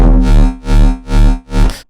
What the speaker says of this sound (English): And then we're going to add some nice reverb to it.